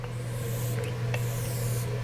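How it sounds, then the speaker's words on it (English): An e.l.f. dewy setting spray gives a couple of short, soft hissing mist bursts close by, over a steady low background hum. "And I just got this e.l.f. dewy setting spray. And it sprays out so weird."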